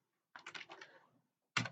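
Code being typed on a computer keyboard: a quick burst of close key clicks, a short pause, then one more cluster of keystrokes.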